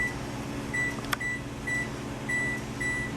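Oven control panel beeps repeatedly while the temperature is lowered from 450 to 325 for a herb-roasted prime rib, several short bright tones spaced across a few seconds over a steady hum.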